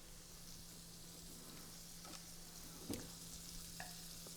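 About four tablespoons of butter melt over medium-high heat in a pan, giving a faint, steady, soft sizzle with a few tiny crackles and no talking.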